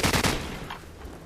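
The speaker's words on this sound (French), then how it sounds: "Je vois un mec, direct je prends la grosse mitrailleuse." A heavy machine gun fires in Call of Duty 4 as a player engages an enemy near a house: three loud, close rapid bursts in quick succession, then a fading echo.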